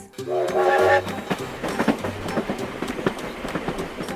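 A small mechanical Peppa Pig toy train rattles along with rapid clickety-clack rhythm, opening with a brief tooting melody before the steady clattering continues.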